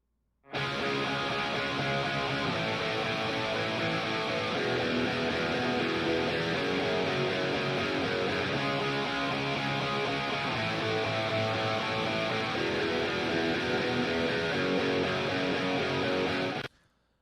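Full, wide guitar chords ring out steadily and alone, double-tracked and panned left and right, thick and layered like two matched performances, sustaining at an even loudness throughout.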